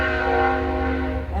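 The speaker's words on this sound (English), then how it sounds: "I can't make a video without what? A train." A train rolls past close by, its horn sounding a long, steady, loud blast with rich harmonic tones over the rumble of the cars, lasting the whole moment without any talk.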